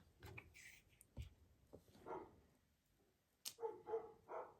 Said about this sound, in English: be quiet, dogs. You're making a ruckus.